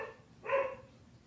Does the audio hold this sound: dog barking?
yes